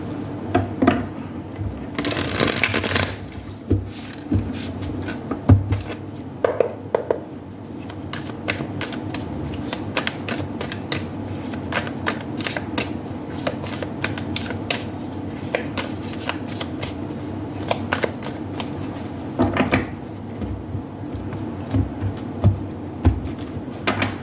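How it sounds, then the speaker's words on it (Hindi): Tarot cards being shuffled by hand, a long run of crisp riffling and flicking bursts with soft taps and pauses between them, close and clear, with no talking. "पर पहले हम आपके टैरो शफल करते हैं और कार्ड्स निकालते हैं।"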